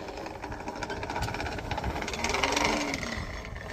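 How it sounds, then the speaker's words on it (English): An antique forge blower, in need of some work and with thick cold oil, whirs and rattles continuously at moderate volume, with a faint rising whine partway through. "The only thing that I bought for this was the blower, and it is an antique blower."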